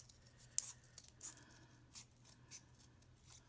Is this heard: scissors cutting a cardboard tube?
yes